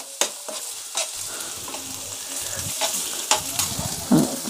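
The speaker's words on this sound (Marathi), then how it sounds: "आता यामध्ये मी थोडंसं टोमॅटो टाकून घेते" Tomatoes and red chili paste frying in a pan, with a steady sizzle broken by several sharp scraping stir strokes and clinks of a spoon, close and without speech.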